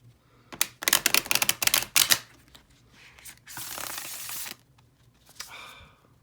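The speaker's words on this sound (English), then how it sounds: "It shuffles and bridges very smoothly." Matte-finish oracle cards riffled in a rapid crackling burst, followed by a softer whirring cascade as they bridge back together, close up with no talking.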